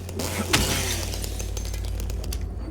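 Glass shattering in the survival horror game Silent Hill 2 Remake, a single sharp crash early on, followed by a low steady hum of game ambience.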